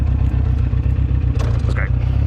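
An air-cooled motorcycle engine idles steadily with a low, even rumble, close by, with a brief rustle partway through.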